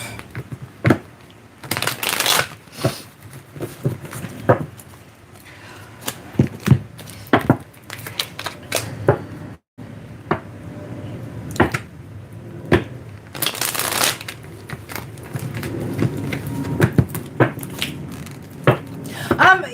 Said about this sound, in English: let's give these a good little shuffle up